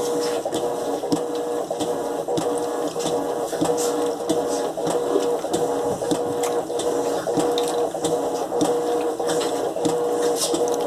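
An Electrolux LTE12 washing machine agitates a load of colored clothes, producing a steady, loud mechanical churning with a constant hum and faint rhythmic pulses, close up and without speech.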